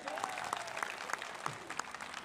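A gathered group claps together in a hall during an informal classroom-style session, with distinct hand claps standing out over a steady wash of applause, heard at moderate distance and fairly quiet.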